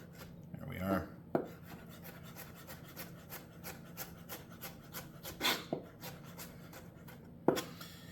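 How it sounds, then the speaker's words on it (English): A knife cuts fruit on a wooden board for a rustic, chunky tropical salsa, giving soft, steady slicing and rubbing taps close by with no talking. "We don't want to cut this too small, but we want this to be just kind of a rustic, chunky salsa."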